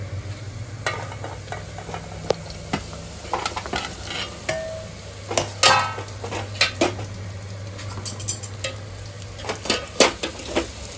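Fried onions and small chopped pieces of bajra roti are stirred in a pan, with an ongoing sizzle beneath repeated scraping and clinking of a spoon against the metal, close and uneven.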